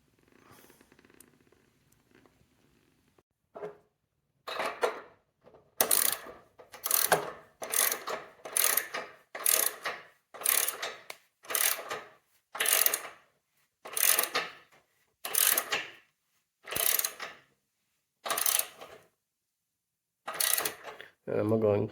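A ratchet tightening a bolt on a Helmsdale scissor lift: a sequence of about a dozen loud, evenly spaced clicking strokes, close up, starting after a quiet lead-in with faint sounds.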